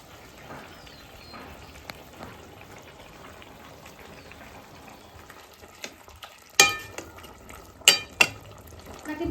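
Fish curry broth with eggplant bubbling in a pan, a low soft simmer and light sizzle with a few sharp clinks of a utensil against the pot near the end.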